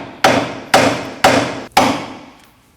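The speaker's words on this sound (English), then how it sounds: "Using a hammer, we're gonna go ahead and tap on this area." A hammer strikes a steering knuckle on a 2011-2016 Kia Optima four times in a steady rhythm, each sharp metallic hit ringing briefly before fading, loud and close with no talking.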